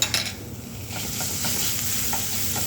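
Garlic and onions frying in oil in a pan for an Arab-style chicken stew, giving a steady, close sizzle with soft crackles throughout and no voices.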